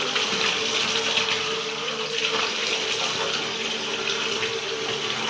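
Holy water at a hillside monastery in Georgia flows in a steady, close rushing stream, an even full-band gush that never lets up, with no voices over it.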